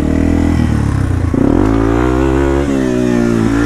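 A Yamaha TW200 motorcycle revs hard on a muddy trail, its engine loud and close with a steady throaty drone that climbs in pitch as the throttle opens.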